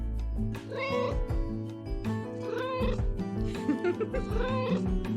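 Cats meowing repeatedly in the cozy crafting game Quilts and Cats of Calico, several clear, drawn-out meows over steady game music, loud and close throughout.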